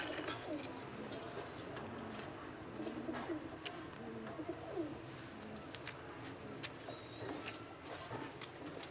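Domestic breeding pigeons coo softly at a home loft, with low, muffled cooing and a few faint chirps over steady background noise. No voices.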